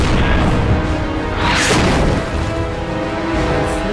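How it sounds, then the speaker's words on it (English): Artillery barrage at the Battle of El Alamein: dense rumbling booms and crashing blasts roll on continuously and loudly, with a sharp burst near the middle. "Enormous explosions."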